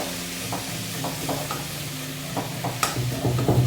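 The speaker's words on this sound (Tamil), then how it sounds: "இப்போ தக்காளி போட்டுக்கலாம்." Tomatoes go into frying onions in a pan for tomato kuzhambu, with a steady close sizzle and repeated scraping stirs of a spoon across the pan, growing busier toward the end.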